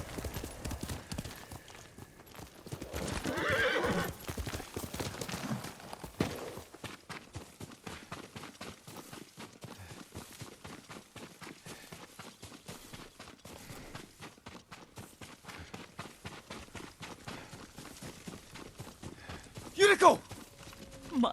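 A horse in the Ghost of Tsushima video game clip-clops steadily at a walking pace for the whole stretch, with a brief neigh near the end and game music or ambience beneath.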